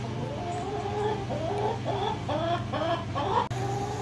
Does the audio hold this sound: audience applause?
no